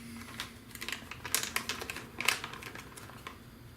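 Scissors cut open a plastic parts bag during a TREX 470LM Dominator helicopter frame build, giving a quick, close run of crisp snips and crinkles with no talking.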